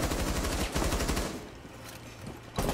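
Fast, loud rifle fire in Rainbow Six Siege, a dense burst of shots up close that stops and then briefly resumes at the end.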